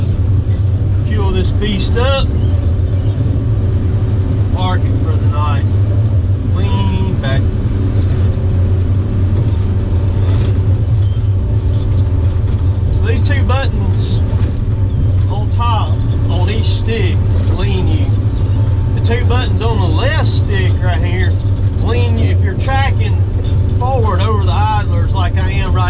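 A Tigercat L830C feller buncher runs steadily at close range while topping big oak trees, a loud low engine drone with continuous rumble throughout, and someone talks over it.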